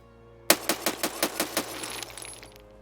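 A rifle in Escape from Tarkov fires eight sharp, evenly spaced shots in quick controlled succession, each crack loud and close, followed by a short fading tail.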